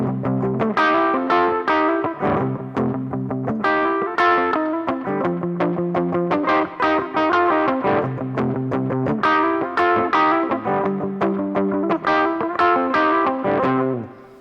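Electric guitar plays a blues riff that shifts from major to minor and back, with distorted, effects-laden tone and steady rhythmic picked notes ringing continuously, loud and close, with no talking.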